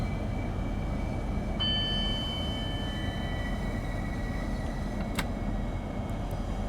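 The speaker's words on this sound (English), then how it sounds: "Let's start applying the brakes." A Southeastern Class 395 high-speed train brakes on the Southeastern High Speed line, a loud steady rolling roar inside the cab with faint tonal whines rising and a brief click partway through.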